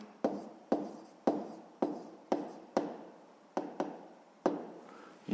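A pen writing out a fifth-grade math solution on paper, a series of about ten scratchy strokes in uneven rhythm, each starting with a sharp tap and fading, close and quiet with no voices.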